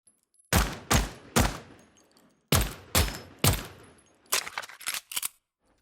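Gunfire with bullet impacts from the Lyra starter game in Unreal Engine 5: sharp, loud single shots in two spaced bursts of three, followed by a quicker cluster of lighter crackling impacts, with near silence between.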